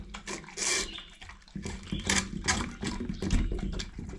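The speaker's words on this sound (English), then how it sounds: "Riley splatters a lot of water when he's eating his food" Riley, a dog on the Appalachian Trail, laps and gulps food mixed with water, sending irregular wet splatters and slurps in uneven bursts at close range, with no talking.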